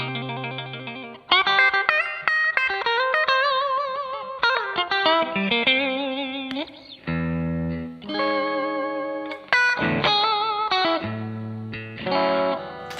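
A Stratocaster-style electric guitar with bridge and middle pickups combined plays chords and arpeggiated phrases with a bright, chiming, slightly overdriven tone, sustained notes ringing out in short sections.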